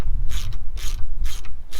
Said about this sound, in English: We'll just start cranking this down.